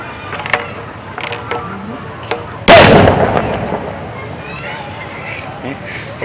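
A homemade carbide cannon fires once with a single sharp, loud boom that rings out and decays over a couple of seconds, with faint background chatter before and after the blast.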